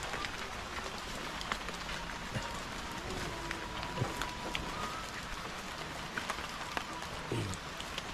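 Steady rain falls in a foggy village in the late afternoon, a soft even patter with scattered drips and faint distant sounds, no talking.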